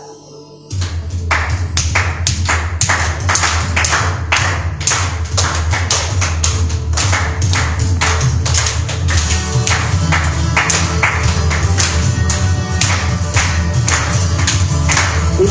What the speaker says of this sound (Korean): 이 시간에 함께 박수로 하나님 찬양하기 원합니다.